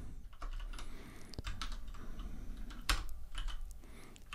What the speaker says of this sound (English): And my typing is all over the place.